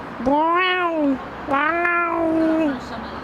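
A person vocally imitates a sick cat with two long, wavering, nasal meows in a row, loud and close.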